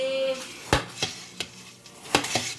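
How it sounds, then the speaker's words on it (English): Chicken and stuffing casserole being stirred in a dish, with close, crisp clinks and scrapes of a utensil against the dish in a few quick irregular strokes. "Give this a good stir."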